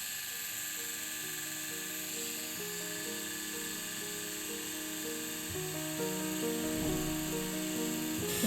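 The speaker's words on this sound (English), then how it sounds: "The thing I'm not used to is how I have this on a pretty low voltage, meaning my machine is going quite slowly" A tattoo machine buzzes slowly at low voltage, a steady droning hum whose pitch steps lower and higher as the needle runs, close and continuous with no talk.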